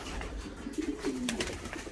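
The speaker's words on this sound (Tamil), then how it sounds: "புறாக்களும் இங்கே ஃபுல் ஓப்பனில் தான் இருக்குது." Pigeons cooing in an open farm loft, a few soft low coos in a short run, close and clear over faint background rustle.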